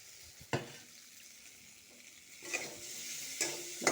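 Soy chunks and potatoes sizzle in a pan with cumin, turmeric, salt, green chili, ginger and bay leaf as they are stirred, steady frying hiss broken by a few scraping stirs, close and moderately loud with no talk.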